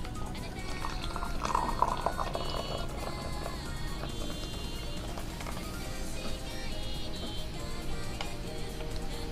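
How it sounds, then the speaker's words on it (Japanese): Hot water being poured into a cup over honeybush diet tea, a steady liquid stream running continuously at moderate level with a faint background hum. "お湯を注ぎます。"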